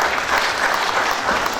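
Applause from an audience at an evening cultural gathering welcomes a guest to the stage, a steady dense clapping that holds at one level for its whole short length, with no voices over it.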